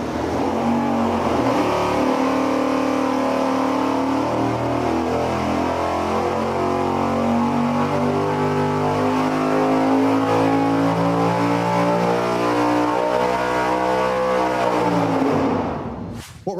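A car engine is held at high revs on a dynamometer, a loud, sustained roar with steady harmonic tones lasting about fifteen seconds before it abruptly cuts off.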